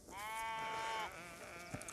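A single sheep bleats once, a wavering nasal call lasting about a second, followed by quieter ambient sounds and a brief knock.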